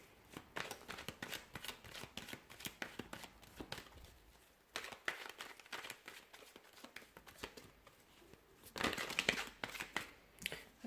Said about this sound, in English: I'm going to go ahead and give the cards a shuffle